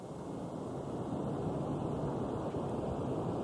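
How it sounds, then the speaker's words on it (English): Strong hurricane wind, gusts of 40 to 50 miles per hour, roars steadily and loudly, buffeting the microphone with a dense, continuous rumble and no letup, during Hurricane Luis in 1995. "I don't know if you can hear the wind gusts, but they're getting incredible."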